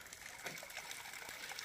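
Water flows steadily at a water source, a faint, continuous gushing rush with no pauses.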